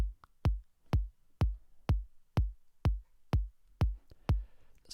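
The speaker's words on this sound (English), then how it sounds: "So that's our kick drum." A kick drum sample plays during music production, about ten deep, punchy thumps evenly spaced in a steady four-on-the-floor pulse, close and alone.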